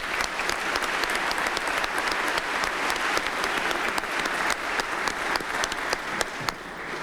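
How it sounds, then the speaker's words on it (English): A crowd at a Cleveland Division of Police graduation ceremony gives a round of applause, with sustained, dense clapping and individual sharp claps standing out near the listener, continuing steadily without letup. "Give you a round of applause."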